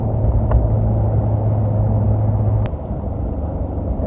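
A 2019 Ford Ranger towing a trailer in third gear at about 3,200 RPM, heard as a loud, steady engine and road rumble from inside the cab, easing slightly lower near the end.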